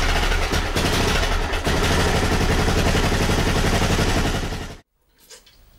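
A DR Big motorcycle engine runs after an oil change, a loud, close, rough clattering roar that holds steady for several seconds, then cuts off abruptly into near silence.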